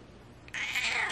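A pet cat gives a single drawn-out meow close by, alone in a quiet room.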